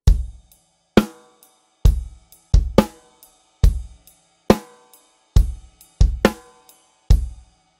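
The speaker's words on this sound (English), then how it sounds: "playing on the right cymbal with the hi-hat with the left foot," A sparse drum groove with punchy kick and snare hits, ringing ride cymbal strikes and crisp hi-hat chicks played with the left foot, at a steady moderate tempo.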